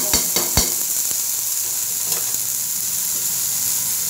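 Black cumin seeds dry-roasting in a frying pan, opening with a few sharp clicks as they land. A close, continuous sizzle and hiss follows, with light stirring scrapes.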